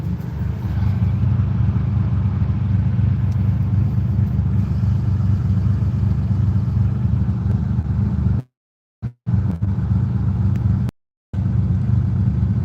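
Lamborghini Countach engine while driving, a loud, continuous low drone heard from inside, broken by two brief drop-outs near the end.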